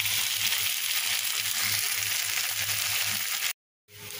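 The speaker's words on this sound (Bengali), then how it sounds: "সিমগুলা একটু ভাজা হবে সুন্দর করে, তারপরে নামিয়ে নেব।" Flat beans frying in oil in a pan with potato, a continuous bright sizzle close up that runs steadily, then cuts off abruptly to silence before briefly returning.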